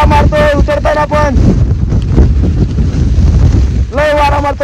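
Strong wind on Girnar mountain buffets the microphone in a steady low roar, with voices talking at the start and again near the end.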